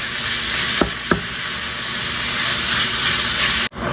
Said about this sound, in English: Then we're going in with our ground beef. Continue to cook this until your ground beef is good and well chopped up.